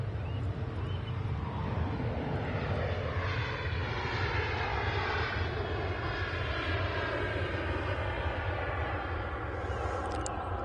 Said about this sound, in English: There'll be your Ryanair taking off.